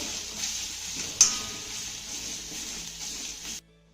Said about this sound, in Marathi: आता हे सगळे मसाले आपल्याला छान असे परतून घ्यायचे